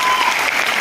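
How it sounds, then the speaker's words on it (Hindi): Brief burst of dense applause from an indoor event audience, steady clapping throughout with no speech. "जोरदार जोरदार तालियां"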